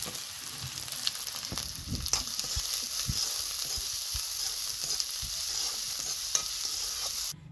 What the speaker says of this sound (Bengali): তেলে পেঁয়াজ দিয়ে দিব, একটু রসুন, 4 কোয়া রসুন দিয়েছি।